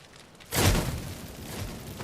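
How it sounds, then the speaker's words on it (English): Wooden shack catching fire in The Witcher 3 video game, a sudden broad whoosh of flames that flares up and keeps roaring steadily, fairly loud with no talk. "let's burn this shack down"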